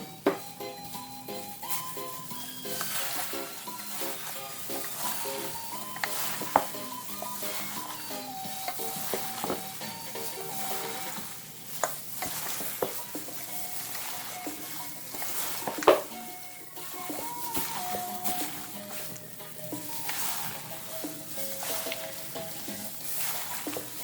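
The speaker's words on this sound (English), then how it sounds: "So this I will do on the stove with the oil, and then chicken will go in." Chicken cooking in hot oil in a pot on a stove for a spicy curry chicken masala, a steady soft sizzle with scraping stirs and occasional clinks of a utensil against the pan.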